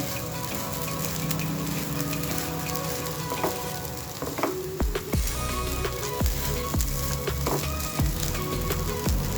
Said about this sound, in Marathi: हे एकदा छान परतून घेऊ